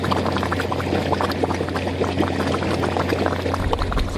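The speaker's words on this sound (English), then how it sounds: "So as you can hear, bubbling away," Anaerobic digester bubbling steadily as gas is produced, a dense, continuous burble of small bubbles over a low steady hum, fairly faint and heard alone.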